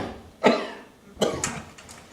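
A person coughs close by in two sharp bursts, the second trailing into a few smaller coughs, with no talk around them.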